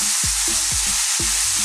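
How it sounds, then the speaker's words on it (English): Mushrooms frying in a pan over turned-up heat, giving a loud continuous hiss and sizzle, with low knocks recurring every half second or so as they are stirred. "The mushrooms are cooking nicely"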